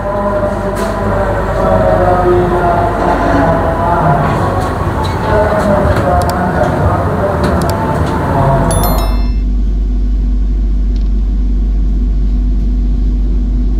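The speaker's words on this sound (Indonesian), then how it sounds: "Sekarang sudah berangkat lagi dari stasiun Purwokerto" Gajah Wong stainless steel premium economy train pulling out of Purwokerto station, heard from inside the car: a loud steady rumble and rolling roar that cuts abruptly to a low interior hum near the end.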